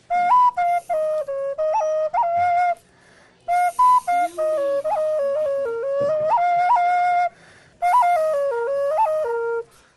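A homemade Native American flute plays a breathy, clear melody in three phrases separated by short pauses, close and alone with faint background sounds.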